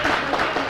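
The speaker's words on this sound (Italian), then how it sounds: "un applauso a lui" Italian audience applauds a performer during a live tribute show to Lucio Dalla, a brief dense burst of clapping at moderate volume.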